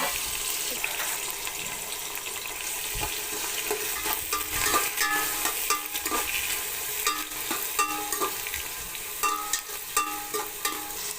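Onions, cardamom and green chillies frying in a pan for chicken biryani, giving a steady close sizzle with scraping and stirring clicks throughout and no talk.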